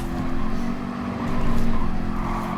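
A race car in the Gran Turismo 7 video game corners under brake release, its steady loud engine drone humming continuously with faint tire scrub.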